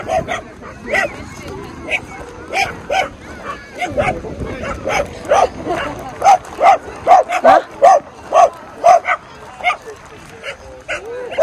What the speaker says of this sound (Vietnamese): chó quá trời chó luôn